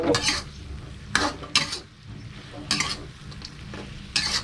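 Crispy pork stir-fried in a pan for a red curry paste and bean stir-fry, with continuous sizzling broken by loud bursts of spatula scraping and tossing at irregular intervals, no voices.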